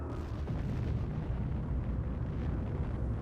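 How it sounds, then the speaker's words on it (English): A nuclear bomb detonating in Civilization 5 roars as a dense, sustained rumbling blast, loud and continuous, full of low booming energy throughout. "One more nuke."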